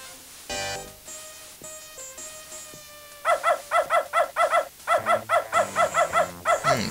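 A guard dog in the video game Beneath a Steel Sky barks in a rapid, steady run of a dozen or more loud, even yelps, preceded by sustained tonal game sounds.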